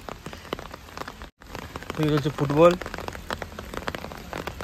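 Steady rain patters on surfaces at a small hillside village among the mountains near Jhakri Falls, Gangtok, a soft continuous hiss with scattered drop ticks and a brief spoken phrase in the middle.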